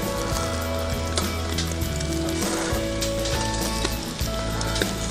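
Shashlik meat sizzles loudly and steadily on a hot vertical grill, a dense continuous crackle and hiss with popping fat, no voices.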